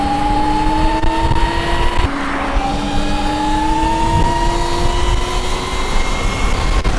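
Voge ER10 125-class electric scooter accelerating at full throttle, a steady rising motor whine with two tones climbing in pitch, close and loud over wind and road noise.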